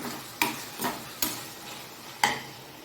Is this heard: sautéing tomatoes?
yes